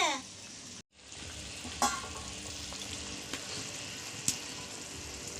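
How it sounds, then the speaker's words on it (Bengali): Morla fish frying in hot oil, a dense, steady sizzle that briefly cuts out, then resumes with occasional sharp spits and pops, close and continuous. "মোরলা মাছের ঝালের জন্য মোরলা মাছ ভাজা"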